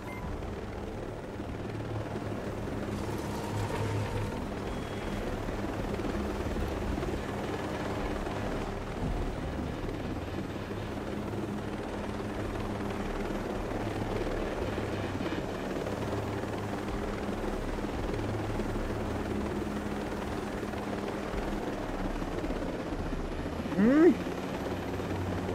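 Helicopter in the video game Ghost Recon Breakpoint, a steady loud rotor drone and engine rumble holding through the whole stretch with no break, with a brief sharper sound near the end.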